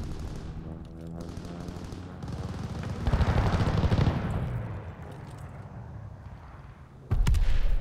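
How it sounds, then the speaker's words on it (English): Strafing-run gunfire during a video game session, a loud rumbling barrage of rapid shots and blasts that swells in the middle, eases, then hits hard again at the end. "Enemies called a strafing run"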